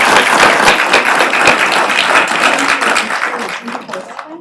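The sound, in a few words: audience applause at school board meeting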